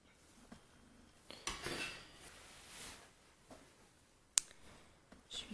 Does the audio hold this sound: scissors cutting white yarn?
yes